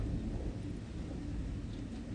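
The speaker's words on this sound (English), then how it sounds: "it is so stormy right now" Low rumbling thunder during a storm rolls steadily through the whole stretch, a continuous broad murmur with no voices.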